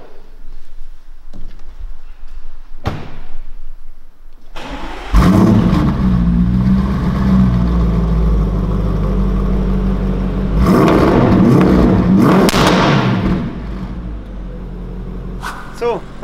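A tuned Audi RS6 Performance at around 740 PS with an Akrapovic exhaust cranks and starts, settling into a deep rumbling idle with a couple of revs, heard close after some quieter handling noise at the start.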